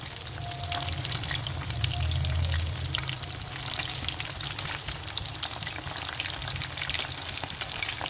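Broast chicken fries in a pan of hot oil as the pieces are moved and turned, giving a steady, close crackling sizzle with a few soft scraping shifts and no talking.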